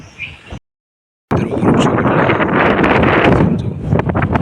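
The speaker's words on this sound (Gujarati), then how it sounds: "અવાજ આવતો જ છે પવનનો" Broadband storm wind in Gujarat rushes steadily after a brief silent gap, with rustling bursts and a faint voice underneath.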